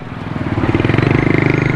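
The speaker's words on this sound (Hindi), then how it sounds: "ये मोटरसाइकिल वाले यहाँ से गुजर तो रहे हैं" A motorcycle passes close by at an underpass construction site, its engine rising to a loud, throbbing pulse and holding it for under two seconds.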